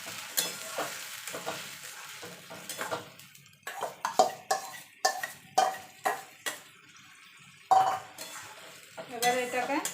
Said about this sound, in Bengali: এবার যে ঝিঙেটা বেটে রেখেছিলাম সেটা দিয়ে দেবো।